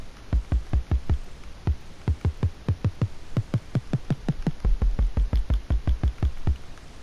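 Rapid series of short, dry tapping knocks from a Minecraft stone note block, played in quick bursts and irregular runs, fairly quiet with nothing else audible.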